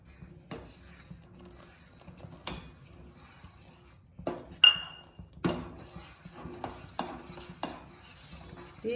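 A spoon stirs custard powder into boiled milk in a steel vessel, giving sparse metallic clinks and scrapes that grow busier and louder partway through, close by, with no speech.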